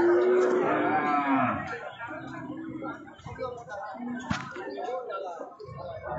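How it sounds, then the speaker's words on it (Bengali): A very large cow at the Hazratpur cattle market lets out a loud, drawn-out moo close by. Afterward, people talk and thumps come from the busy market on a rainy day. "এত বিশাল আকারের গরু।"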